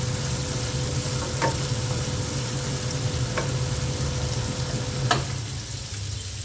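Steady frying sizzle of fried chicken in a pan fills the clip, a constant crackling hiss with a few sharper pops, close and fairly loud, no voices.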